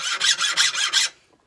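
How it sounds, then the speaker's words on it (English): A file rasps hard across forged scrap-pile Damascus steel that resists a drill bit, making five quick, bright scraping strokes in even rhythm, close and fairly loud, then stopping into near silence. "So I took a file to it"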